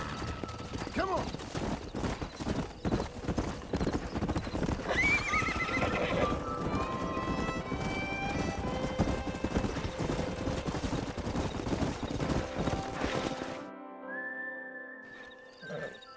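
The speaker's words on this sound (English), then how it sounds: "We got some fine horses." Horse hooves clip-clopping steadily alongside neighs and whinnies in the Red Dead Redemption video game, loud and continuous with whistling and a musical score, cutting to quiet near the end.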